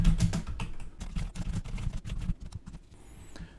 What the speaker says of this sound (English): now I'm going to go ahead and type a question.